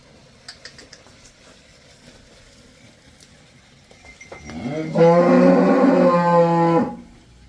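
A cow on a dairy farm lets out one loud, drawn-out moo after a stretch of quiet barn ambience with faint clicks and knocks.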